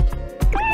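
A cartoonish cat meows once in the video game Dave the Diver, a short rising, tonal cry that stands out clearly and close after a brief low thump.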